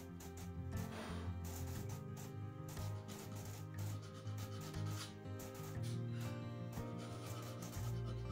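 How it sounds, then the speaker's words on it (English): Rhythmic back-and-forth sanding strokes rasp against a 1920s wooden vanity, close and steady, with a low hum running underneath. "Plenty more sanding."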